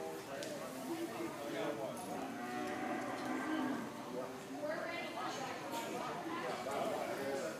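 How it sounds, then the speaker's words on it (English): Cattle moo repeatedly and loudly while a working dog herds a cow at an October show trial, the drawn-out calls carrying over steady crowd chatter and voices. "Come on, Jackson, work this cow."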